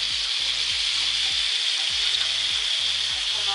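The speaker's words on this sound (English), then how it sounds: "he's busy cooking his steak" Steak frying in a pan, loud continuous crackling sizzle at close range with a pulsing low hum underneath throughout.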